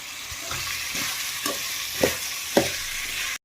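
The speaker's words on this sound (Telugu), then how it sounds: "కూరగాయలు ఫ్రై చేసేటప్పుడే ఈ కరివేపాకు కూడా యాడ్ చేసుకోవాలి." Vegetables and curry leaves frying in oil for sambar, producing a steady close sizzle broken by a few spatula scrapes as they are stirred.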